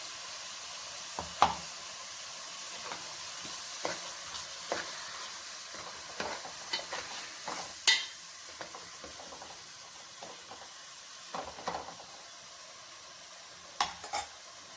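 Fish curry ingredients fry in a pan for Andhra-style fish pulusu, giving a steady low sizzle broken by scattered stirring knocks and scrapes of a utensil against the pan, with no voices.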